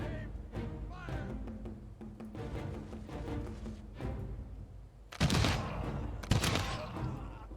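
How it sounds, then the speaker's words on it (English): Musket volleys ring out in a battle in the strategy game Humankind, two sharp, loud crackling bursts of massed fire following quieter rumbling battle sounds and faint shouted commands. "Ready, aim, fire."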